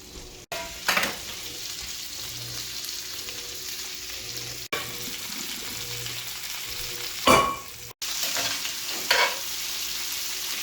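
Asparagus coated in Montreal steak seasoning sizzles steadily in a pan that still holds steak, shallots and garlic. The frying hiss runs throughout, with a few louder bursts and brief breaks, and no one speaks.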